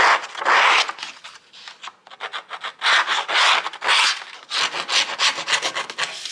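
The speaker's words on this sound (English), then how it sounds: "I'm gonna start off by just cutting off my barcode strip and distressing the edges" Edges of a scrapbook paper barcode strip being distressed with a rasping tool, rapid close scraping strokes in bursts with short pauses between, loud and alone.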